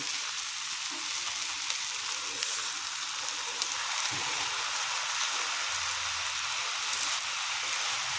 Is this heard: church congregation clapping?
no